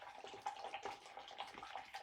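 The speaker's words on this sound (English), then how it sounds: "I'm just washing my paint. My paintbrushes." Paintbrushes swished and rinsed in a small container of water with Murphy's soap, a continuous close wet sloshing and dabbing with soft splashy clicks, alone without talk.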